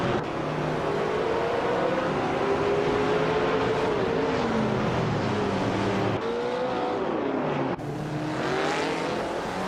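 Race cars in a racing video game, among them a 1977 Jaguar XJ12C Broadspeed, with loud engines droning and rising and falling in pitch as cars shift and pass, brief abrupt cuts between shots, no talk.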